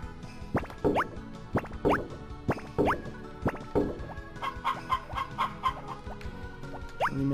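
Chickens clucking in Harvest Moon: Back To Nature, a string of short repeated clucks and squawks at a loose rhythm, fairly close and clear, with no talk over them.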